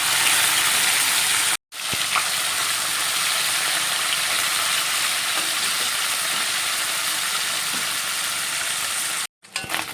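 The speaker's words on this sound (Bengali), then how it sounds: "কড়া করে মুচমুচে করে মাছগুলো ভেজে নিয়েছি।" Fish frying crisp in hot oil: a loud, steady, dense sizzle that continues throughout, broken only by two very brief dropouts.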